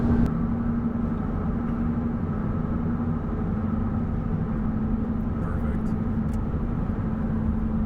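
A car driving on the road gives off a steady, moderate engine hum and tire rumble that stays even and continuous throughout.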